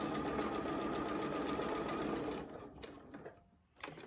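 A sewing machine stitches a quilt block in a fast, even whir for a couple of seconds, then stops and gives a few short clicks and light taps nearby.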